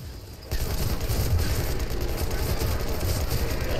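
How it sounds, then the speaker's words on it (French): Rapid gunfire bursts in Enlisted, a World War II shooter's zombie survival mode, starting abruptly after a quieter moment and rattling on loud and dense as weapons fire continuously. "Je prends pas de chance, je tire tout ce que je peux."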